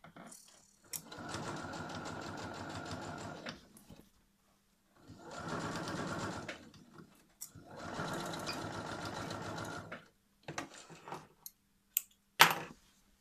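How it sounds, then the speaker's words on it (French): A sewing machine stitching a double-compartment fabric pouch runs in three steady bursts of a few seconds each, with pauses and light clicks and handling noises between them. "Marche avant et marche arrière, et c'est parti. Je couds."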